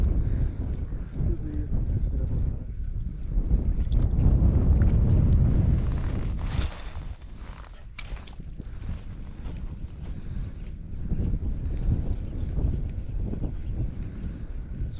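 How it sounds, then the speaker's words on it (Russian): Wind buffets the microphone on a boat out on the shallow Pechora river, a loud rumbling gust swelling in the middle then easing to a lighter, steady blustery hiss. "Блин, этот ветер вообще не в тему, и якорь кидать неохота."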